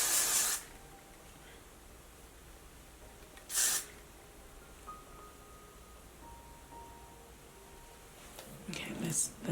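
Short bursts of spray are applied to a glueless wig: one at the start, another a few seconds later and a hissier burst near the end, with quiet background between them.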